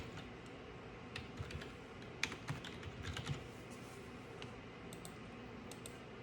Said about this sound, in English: then we are going to type in our name and email